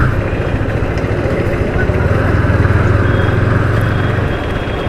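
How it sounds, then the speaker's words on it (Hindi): Yamaha MT 15 motorcycle running close by, a loud, steady engine drone with a dense low rattling texture throughout. "बाइक में जो खटपट आवाज़ आ रही है"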